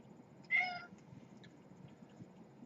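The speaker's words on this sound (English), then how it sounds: "My wife's cat is back." A pet cat gives a single short, clear meow close by in an otherwise quiet room, followed by faint rustling.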